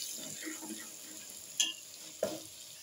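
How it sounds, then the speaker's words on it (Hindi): Garam masala and turmeric roasting in a pan give a soft, low sizzle with gentle stirring, punctuated by two sharp metallic clinks of a spoon against the pan. "मसाले को थोड़ा सा भून लें।"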